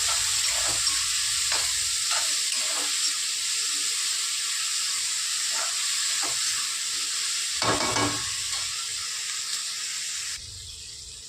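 Tomatoes sprinkled with salt stir-fry in a pan for a simple cluster bean and potato dish, giving a steady close hiss of sizzling broken by occasional clinks and scrapes of stirring.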